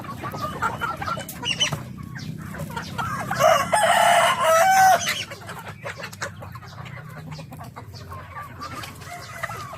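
Backyard chickens cluck and call at feeding time, with a louder burst of crowing-like fowl calls in the middle, fairly close, mixed with other poultry such as turkeys and ducks.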